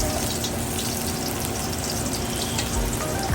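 Garlic frying in oil in a pan until golden brown for ginataang tulingan, a continuous dense sizzle and crackle heard close up with no voices over it.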